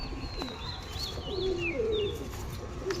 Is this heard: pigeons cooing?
yes